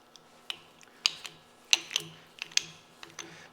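A tube bender's mandrel is spun outward on its threads, giving sparse, sharp metallic clicks and ticks at irregular intervals, close and fairly quiet with no talking.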